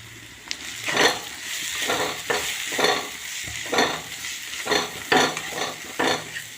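Spices, including chaat masala, being stirred and toasted in a hot pan for kat pav masala, with repeated scraping strokes of a spoon over a soft sizzle, no talking.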